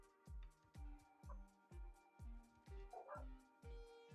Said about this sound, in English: You guys hear the dogs barking?